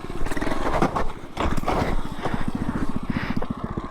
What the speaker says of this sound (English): I wanted to see what happens when you crash a wheelie